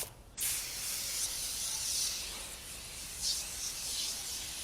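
Car foam cleaner sprays from a can onto a minivan with a sharp burst, then a steady, close hiss that swells and fades slightly in a few pulses.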